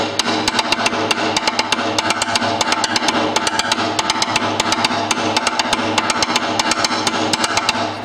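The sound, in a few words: drum pattern played as triplets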